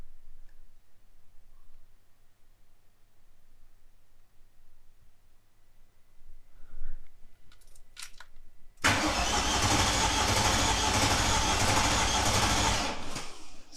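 A Mercedes M113 5-litre V8 swapped into a Ford Capri cranks over, starting with a few faint clicks and then becoming a loud, steady churning starter drone that runs unbroken for several seconds.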